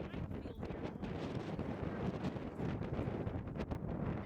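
Piercing, bitterly cold wind at a penguin rookery at Lagoon Bluff in the Falklands, roaring and buffeting the microphone steadily throughout with no letup.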